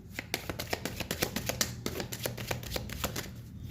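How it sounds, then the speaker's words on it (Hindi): Tarot cards being shuffled by hand, a steady run of quick close flicking and riffling clicks in irregular rhythm, fairly quiet with no talking. "पहले मैं कार्ड्स को अच्छे से शफल करूँगी"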